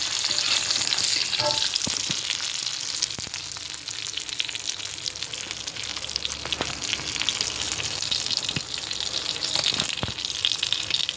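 Mathi fish frying in a pan, a loud, steady sizzle and crackle close up, with occasional pops and stirring scrapes and nothing else over it.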